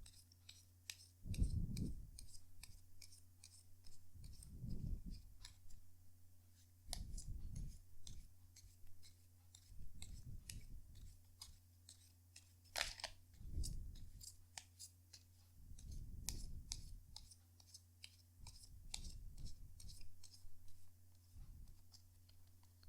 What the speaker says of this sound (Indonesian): kartunya dikocok dulu sebelum kita mulai